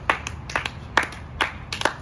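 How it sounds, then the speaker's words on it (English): Hand clapping outdoors in San Diego, a few sparse, uneven claps in small bursts, fairly close and fairly quiet. "Maybe you just keep clapping."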